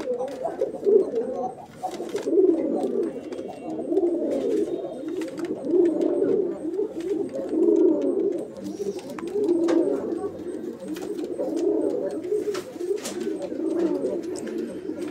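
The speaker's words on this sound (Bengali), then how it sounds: "এই মুহূর্তে যে কবুতরের জোড়াটির ডাক আপনারা দেখতে পাচ্ছেন, এটা মূলত হচ্ছে একটা গররা কবুতরের জোড়া" A pair of black-headed gola pigeons coo close by in a steady, repeating rhythm of soft rolling calls, one every second or two, with no other sound competing.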